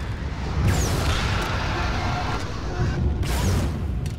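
A few heavy gunshots boom in Far Cry 3, spaced irregularly over a few seconds amid loud game action, with occasional bursts standing out near the start and end.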